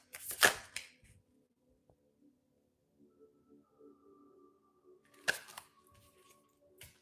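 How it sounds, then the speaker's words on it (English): Plastic oracle cards being shuffled, heard as two brief crisp bursts of riffling, one at the start and another near the end, with quiet handling in between. "I'm going to have to shuffle for this."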